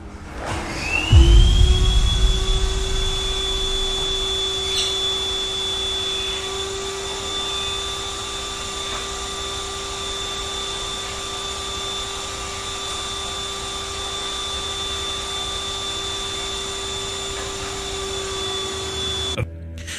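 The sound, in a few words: vacuum cleaner switching on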